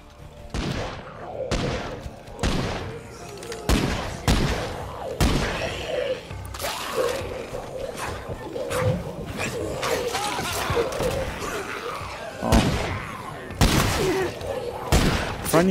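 Rapid gunfire from the zombie survival video game State of Decay 2, with repeated sharp shots and bursts filling the clip, mixed with loud game effects and occasional voices.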